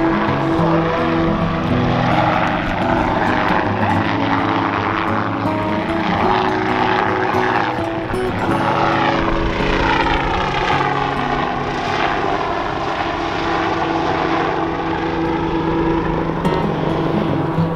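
A helicopter passes close and low over Taupo in winter, its heavy rotor thumping and engine whine sweeping in pitch as it goes by, loud throughout.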